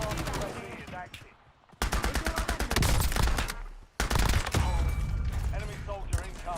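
Loud automatic gunfire from Call of Duty: Warzone comes in two long rapid bursts separated by a brief lull, with softer game sounds and a voice in between.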